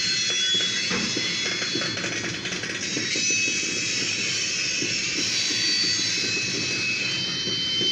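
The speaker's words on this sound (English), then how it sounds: "We got a grain hopper train." A grain hopper freight train led by its engine rumbles through a freight yard, a steady continuous roar with a high whine on top, heard from nearby without a break.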